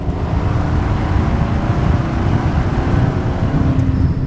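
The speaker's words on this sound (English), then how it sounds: "You hear more motor than you do the exhaust" A steady, loud engine drone with deep low rumble, continuous throughout, from a 2000 Pontiac Firehawk with a 5.7-litre V8 and six-speed manual cruising under power.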